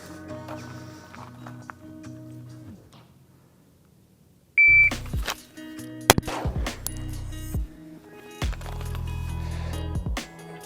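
A shot timer beeps sharply at the start of a pistol draw from a holster, followed by loud gunshots and clatter at an outdoor range.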